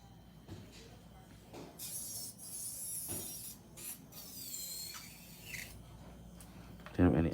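A hand file rasps against an acrylic nail to smooth it, producing soft, close scratchy strokes in short irregular bursts, with a faint murmur of a voice in the background.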